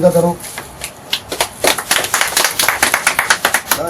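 A crowd at a Janshakti Party gathering breaks into quick, close clapping that builds into steady applause, after a brief voice at the start.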